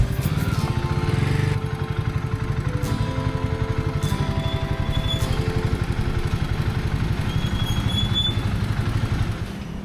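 Motorbike engine running steadily on a straight highway stretch descending from the Himalayas toward Delhi, a loud continuous rumble with rhythmic pulsing and some clatter, close up, no talking.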